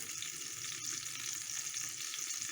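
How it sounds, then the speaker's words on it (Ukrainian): Steady crackling sizzle of chicken cutlets in batter frying in a pan, close and continuous with no talking. "нехай вони ще прожарюються"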